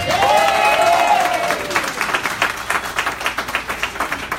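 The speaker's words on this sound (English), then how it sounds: "A big round of applause for Queensbridge." An audience at a community coalition meeting claps and cheers for Queensbridge, a burst that starts loud and thins into scattered claps over about four seconds, with a voice trailing off at the start.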